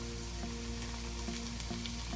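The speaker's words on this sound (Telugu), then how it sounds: "ఉల్లి వెల్లుల్లి బాగా వేగేయండి" Onion and garlic frying in a pan give off a steady, dense sizzle at an even level, with faint stirring beneath it.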